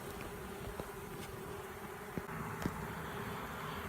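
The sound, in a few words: honeybee swarm buzzing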